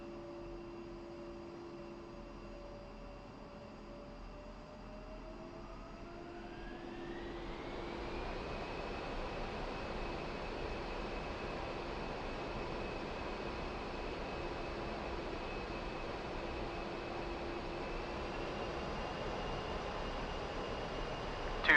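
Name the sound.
A-10C jet engines at full throttle on takeoff, DCS World video game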